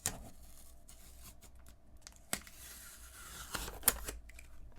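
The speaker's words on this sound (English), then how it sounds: "hold down on the guide, and we're going to peel up the sticker here" A sticker peels away from a Nintendo Switch 2 screen protector guide, heard as faint close plastic crackles and a few sharp tearing snaps in a quiet room.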